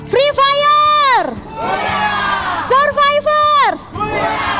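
A large crowd at a Free Fire esports event roars and cheers in loud, sustained swells, several rising shouts breaking out one after another.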